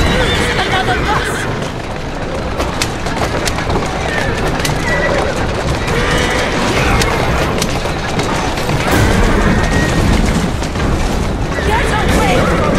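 A horse whinnies amid a dense, busy Assassin's Creed Syndicate game soundscape with hoofbeats, rumbles and crashes, while voices talk over the steady clamor.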